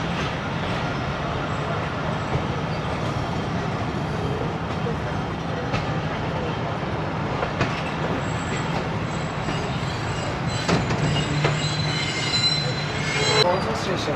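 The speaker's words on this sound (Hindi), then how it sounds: "14 डाउन का हो चुका है जी सिग्नल क्लियर, जो प्लेटफॉर्म नंबर 2 पर जाएगी।" A train pulls into a railway station platform on the Lahore to Rawalpindi route with a steady rolling rumble and wheel noise, brief squeals and clanks rising toward the end, and a few voices in the background.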